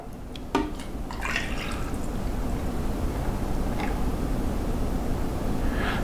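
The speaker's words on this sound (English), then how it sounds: "I'm going to drop a bunch of ice in here and then fill it up with water." Ice and water being poured into a Dripo cold brew coffee maker, a steady sloshing fill with a few brief clinks near the start, close and continuous throughout.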